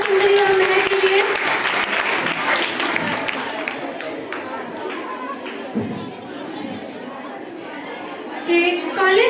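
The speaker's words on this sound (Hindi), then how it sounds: "तो एक बार फिर से जोरदार तालियां हो जाए" Loud, sustained audience applause at a college farewell event, steady dense clapping for several seconds with crowd chatter mixed in.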